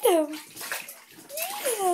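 A small child splashes water in a bathtub, soft sloshing heard beneath a child's squeals and an adult's voice, close and intimate.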